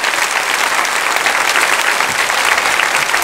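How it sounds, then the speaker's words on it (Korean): A standing church congregation at a Sunday worship service gives sustained, even welcoming applause for visiting missionaries, loud and dense throughout with no gaps. "환영의 박수 드리겠습니다"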